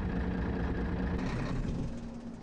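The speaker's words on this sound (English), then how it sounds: "Left the truck engine running." A truck engine idles steadily in Farming Simulator 22, a dense, continuous low drone that holds nearly constant and fades slightly near the end, with no voices.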